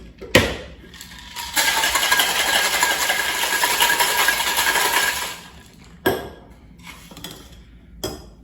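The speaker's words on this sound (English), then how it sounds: "And then we'll give this a good shake with some ice." A cocktail is shaken hard with ice in a shaker, giving a loud, continuous rattling churn for several seconds. Sharp clinks come before the shaking and a few separate knocks follow it.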